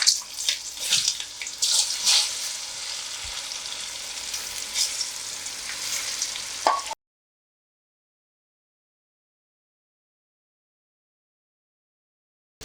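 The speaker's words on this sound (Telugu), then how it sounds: "ఎల్లుల్లిపాయ వేగి నెయ్యి మామిడికాయ ముక్కలు వేసుకుందాం" Mango pieces fry in ghee with garlic, giving a dense crackling sizzle with sharp pops for several seconds before cutting abruptly to silence.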